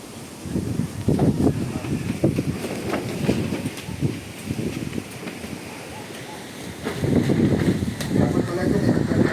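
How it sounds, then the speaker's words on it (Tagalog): Strong wind buffets the microphone outdoors beside a house, a continuous rushing roar that swells in gusts and carries low rumbling bursts, with voices faintly under it. "Lakas ng hangin."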